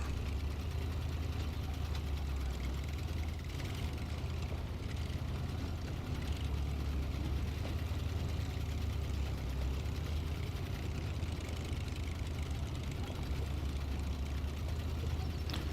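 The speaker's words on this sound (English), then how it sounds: "Actually, it doesn't sound like a tractor. It sounds like a Model T or something." A Loadstar 1700 truck engine in low gear in the SnowRunner video game gives a steady, loud, low rumbling drone with a rough knocking quality, running continuously with no speech.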